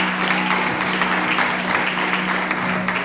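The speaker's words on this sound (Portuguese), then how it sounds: "Recebe a evangelista com as palmas de vitória." A church congregation claps to welcome a woman evangelist, dense continuous applause that stays steady and close for the whole stretch, with a sustained tone underneath.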